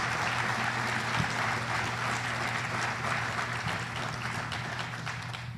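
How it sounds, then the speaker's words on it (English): Sustained round of applause from a faculty audience at a college professional day meeting honoring retirees, steady dense clapping throughout that eases slightly toward the end. "So let's have a round of applause for all those people who have retired."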